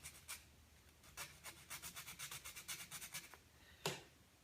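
Sandpaper roughing the surface of a rudder before epoxy filling: a steady run of about a dozen fairly quiet, rhythmic back-and-forth rasping strokes, then a single sharper scrape near the end, with no talking.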